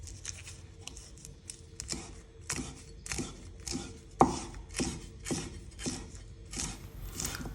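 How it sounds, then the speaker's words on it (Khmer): A knife chops lemongrass stalks and galangal on a board for a Cambodian grilled fish dish, with a steady series of sharp, close, evenly spaced cuts and no talking. "យើងហាន់គល់ស្លឹកគ្រៃយើងហាន់រំដេងឲ្យតូច"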